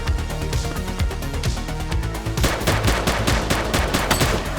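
Rapid bursts of gunfire in The Precinct, a police video game, crack out in dense, repeated volleys over a steady backdrop of game music, growing busier and louder in the second half.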